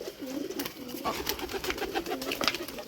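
Racer pigeons, including young birds, coo in soft low rolling bursts that repeat steadily, close and fairly clear, with faint rustling and scattered sharp ticks in the background.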